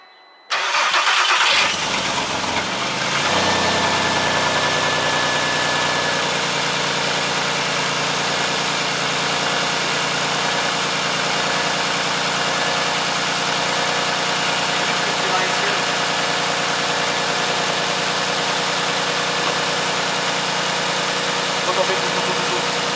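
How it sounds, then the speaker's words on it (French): A car engine cranks and catches, then settles into a steady, loud idle that hums on evenly, close by, for the rest of the stretch, with speech heard faintly over it. "Donc on va tenter un démarrage."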